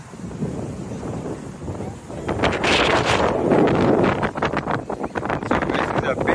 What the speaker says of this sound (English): so this is a bit windy, but partly cloudy